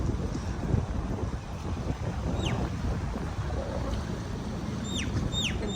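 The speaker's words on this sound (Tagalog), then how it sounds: "Ang lakas ng hangin!" Strong wind blowing by the sea, a loud continuous low rush buffeting the microphone, with a few faint high bird chirps near the end.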